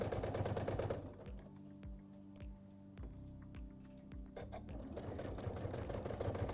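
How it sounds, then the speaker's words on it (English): A Janome sewing machine with an AcuFeed walking foot stitches steadily in a fast, even rhythm of needle strokes, starting and stopping with a softer mechanical hum between. "You can hear the AcuFeed foot working together with the feed dogs on the bottom of your machine"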